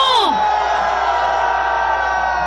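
A Reform Party rally crowd in Korea, on the eve of an election, lets out a sharp, rising whoop, then holds a loud, sustained roar of cheering and shouting from many voices.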